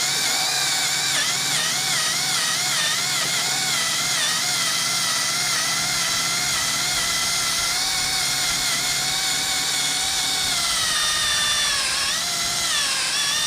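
A cordless power tool strains against sticky spoiler adhesive on a 2022 BMW M3 Competition, a loud continuous whine whose pitch wavers and dips as it bogs down, running alone without voices.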